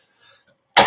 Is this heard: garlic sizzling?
no